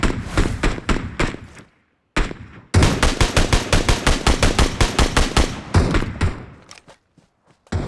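Rapid bursts of automatic gunfire from an online shooter game, loud and close, with short pauses between volleys and a long sustained burst in the middle.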